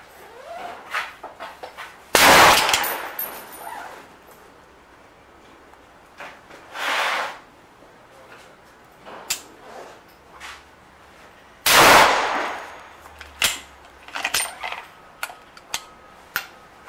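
A .308 Winchester rifle fires .22 accelerator loads with a low powder charge on a range. Two sharp, loud shots come about nine seconds apart, with lighter clicks and handling noises between and after them.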